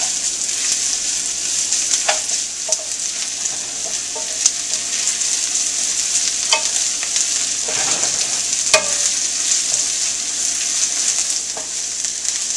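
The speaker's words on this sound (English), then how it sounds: "Now I'm going to go ahead and add all that garlic and my ginger in. And I'm just going to stir it around for 1 more minute." Garlic and ginger stirred in a hot pan for vegetable korma, giving a steady loud sizzle and fry with occasional scrapes and taps of the spoon against the pan, and no voices.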